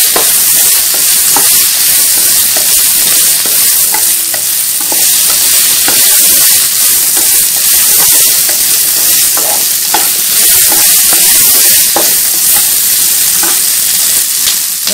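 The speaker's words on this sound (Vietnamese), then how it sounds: "Mình xào đây chừng khoảng 2 phút là được nha." Beef cubes stir-frying for shaking beef with fish sauce in a hot pan, a steady loud sizzle running throughout with scattered sharp crackles and spatula scrapes.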